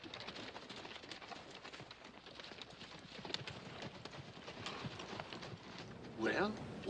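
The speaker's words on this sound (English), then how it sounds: "See, you got some extra horses." Horses' hooves clip-clopping over rough country in a 1958 western, a steady rhythmic clatter under people talking, with a brief louder vocal burst near the end.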